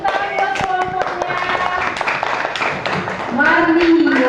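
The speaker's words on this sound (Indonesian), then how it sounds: "Tepuk tangan buat kelompoknya" Students in a classroom clap for a presenting group, dense overlapping claps close by with voices mixed in, and a louder tone rising near the end.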